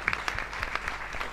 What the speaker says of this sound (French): Moi aussi, j'ai envie qu'on t'applaudisse.